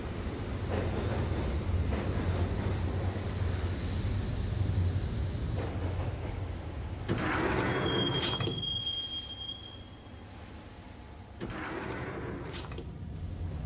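A subway train in Max Payne rumbles along steadily, its wheels squealing on the rails and the carriage rattling, with a brief high metallic screech partway through.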